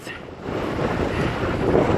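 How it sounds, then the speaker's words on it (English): Strong gale-force wind roars and buffets the microphone of a cyclist 63 miles into a bike race, a continuous loud, broad rushing with gusts swelling toward the end. "freaking gale force winds."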